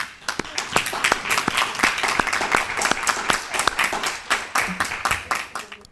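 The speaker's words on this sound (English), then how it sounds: "Let's give them a round of applause too." Audience applause for graduating seniors at a high school recognition ceremony, close and loud with distinct individual claps throughout.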